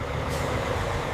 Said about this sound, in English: After security clearance, the sugarcane trucks are allowed to enter the factory.